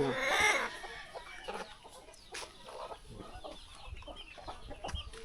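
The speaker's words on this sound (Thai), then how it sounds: "นี่คอกเป็ดคอกไก่เพิ่นเด้อ" Chickens cluck in a duck and chicken coop in a traditional Lao village, a loud burst at the start giving way to scattered, moderately close clucks and rustling.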